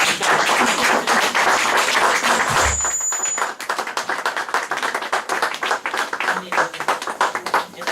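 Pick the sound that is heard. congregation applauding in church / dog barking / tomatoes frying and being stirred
congregation applauding in church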